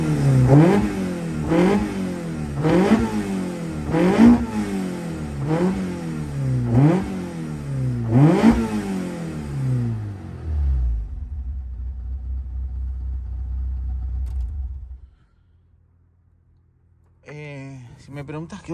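A car engine revs repeatedly in rising, rhythmic pulls for about ten seconds, loud and close, then winds down into a low idle rumble and falls quiet, with a voice briefly heard at the end.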